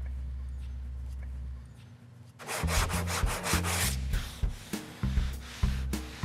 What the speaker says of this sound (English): we're gonna go to a fresh piece of 80 because we want the sandpaper to do the work, not muscle